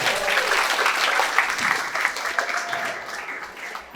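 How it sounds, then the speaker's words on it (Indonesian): An audience claps steadily for several seconds at a motivational work-ethic talk, filling the room with dense, sustained applause that tapers slightly at the end. "Beri aplaus untuk teman kita ini."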